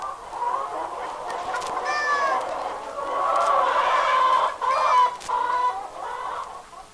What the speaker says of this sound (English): And the chickens had a feast in the cornfields.